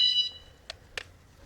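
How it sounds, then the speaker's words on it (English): A Van Guardian van alarm gives a short high electronic tone as it is switched off, followed by two brief beeps, all fairly faint in a quiet space. "alarm off. It's the Van Guardian we have to remember to put on and off."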